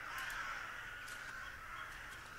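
Crows cawing in the point-and-click horror game The Last Door, a few harsh caws over a faint, steady windy ambience, fairly distant and quiet with no voices.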